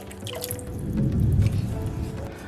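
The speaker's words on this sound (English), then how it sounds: "I'm going to go ahead and pour in 1 cup of coconut milk" Fresh homemade coconut milk pours into a pan while cooking shrimp in coconut garlic cream sauce, a soft close liquid splashing and dripping that swells in the middle and continues steadily for a few seconds.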